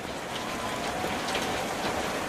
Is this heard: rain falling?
yes